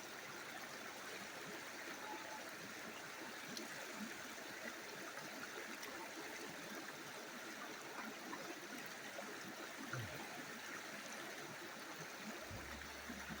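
Steady, even rushing of water washing flint gravel back while dredging for gold, a constant close wash with no talk.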